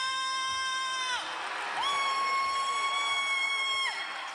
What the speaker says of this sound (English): let's give another round of applause for Rhea.